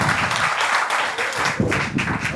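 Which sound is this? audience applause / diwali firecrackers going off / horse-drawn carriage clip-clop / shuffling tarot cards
audience applause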